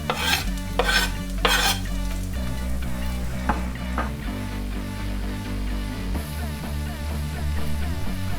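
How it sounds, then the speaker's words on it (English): Chopped garlic hits a pan of translucent onions and is stirred, a steady loud sizzle with a few sharp scraping strokes near the start, no talking. "with the onions nicely translucent, we're just going to add in the chopped garlic."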